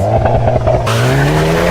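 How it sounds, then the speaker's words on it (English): Hyundai Kona N hot SUV with a 2-liter turbocharged GDI engine revving hard at launch, a loud, close, continuous engine roar whose pitch climbs steadily, with a brief tire squeal early on. "Listen to that 2-liter turbocharged GDI engine."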